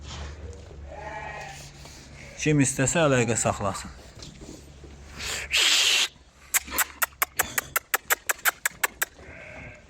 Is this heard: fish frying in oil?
no